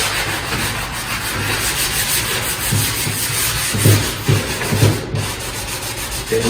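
Light hand sanding along the edges and corners of oak cabinets being prepared for paint, a continuous close rubbing scratch with a few soft knocks as the sander shifts position.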